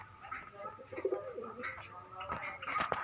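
Pigeons or doves in a bird loft give soft, low cooing calls, close by but faint, over a quiet background with light rustling.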